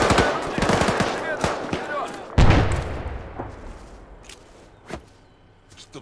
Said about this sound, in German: Ich schieße hier mit Gewehrgranaten rein.